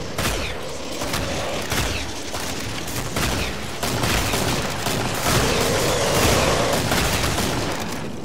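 Sustained .50 cal gunfire in the co-op shooter Killing Floor, a dense, continuous roar of rapid shots that stays loud and steady throughout, with other battle noise mixed in.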